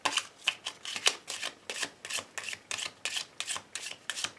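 Oracle cards being shuffled for a reading, a steady series of soft riffling bursts about twice a second, close and moderately quiet, with no talk over them.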